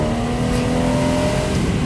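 A Porsche Boxster Tiptronic accelerating hard in first gear, its engine note loud and close with a rising rev tone throughout the short burst, no voices.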